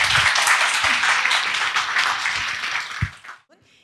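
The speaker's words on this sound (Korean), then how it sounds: "다시 한번 큰 박수 부탁드립니다" An audience at a political report meeting in a Seoul arts theater gives a burst of applause. The clapping is dense and fairly loud, then fades and stops abruptly at the end.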